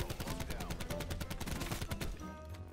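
Rapid automatic gunfire from the video game Black Ops 4, a dense loud burst of shots running almost the whole time before easing off at the end, with a faint voice mixed in.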